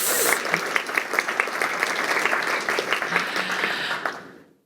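A conference audience gives sustained applause for Cilium graduating in the CNCF. The dense, steady clapping carries at even loudness for about four seconds, then fades out.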